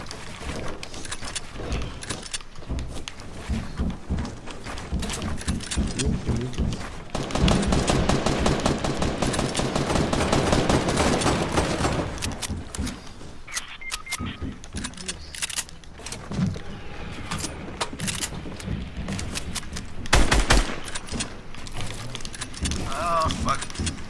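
Rapid bursts of automatic gunfire crackle through a video game firefight, with clustered shots, longer sustained volleys in the middle and a louder burst near the end, while a player talks intermittently over the action.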